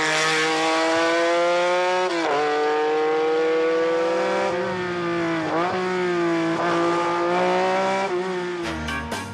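A Ferrari Dino six-cylinder racing car engine at the Tour Auto, a loud, sustained, tonal howl with rising and falling pitch as it revs and shifts, close and dominant throughout.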